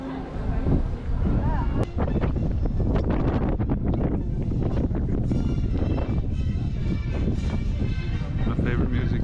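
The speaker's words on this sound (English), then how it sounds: "Still windy." Steady wind in Valletta, Malta, buffeting the microphone with a rough low rumble throughout, busy background noise underneath and no clear gaps.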